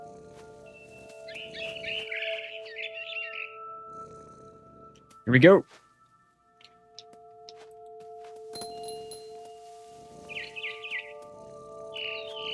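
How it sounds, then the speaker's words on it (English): Short, bright bird chirps ring out in What Remains of Edith Finch, one cluster early and another near the end, over steady game ambience. A sharp burst falls between them, and a voice speaks briefly. "Then I heard chirping outside my window."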